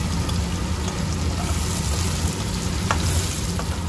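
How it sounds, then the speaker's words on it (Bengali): Chopped ginger frying in hot oil in a pan, a steady close sizzle with faint crackles throughout and no talking. "দিয়ে দেবো একটু আদা কুচি। এটা আমি লাল করে ভাজব।"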